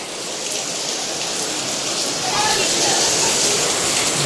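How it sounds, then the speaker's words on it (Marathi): Heavy monsoon rain falls outdoors as a dense, loud, continuous hiss that swells slightly halfway through. A voice speaks faintly beneath it. "जोरदार पाऊस आला."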